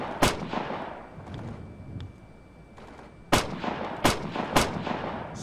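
Gunfire in the war video game Operation Flashpoint: Dragon Rising: a sharp single shot, then a quieter gap with faint distant pops, followed by a close burst of several loud cracks spaced about half a second apart.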